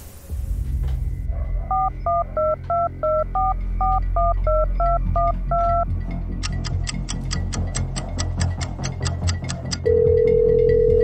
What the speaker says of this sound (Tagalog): Nagre-ring!